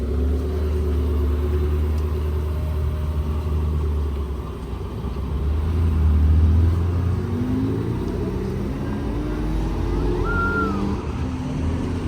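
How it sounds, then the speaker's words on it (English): White Porsche 918 supercar pulling away at a car show, a deep steady engine rumble that swells midway and lingers at close range. "let's just catch this 918 leaving as well"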